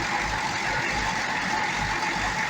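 A Corvette C6 engine idles during a transmission pressure test, giving a steady low rumble with a constant whine above it, close and unbroken.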